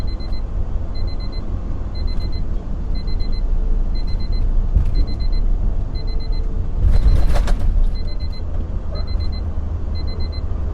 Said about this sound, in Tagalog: Naunahan ko na naman yung alarm ko.